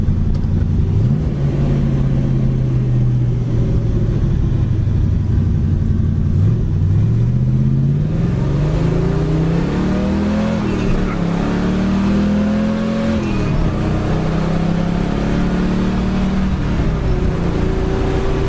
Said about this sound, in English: Car runs and drives excellent down the road.